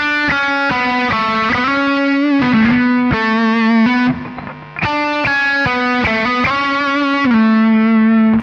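An electric guitar phrase played through an effects pedal, distorted and rich in harmonics: a run of sustained notes changing pitch in sequence, loud and close, with a brief dip into near silence midway before playing resumes.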